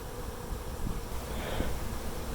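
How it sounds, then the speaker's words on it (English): Honeybees fly back into their hive during a spring inspection, making a faint, steady buzzing hum over a soft background hiss. "They're all coming into the hive."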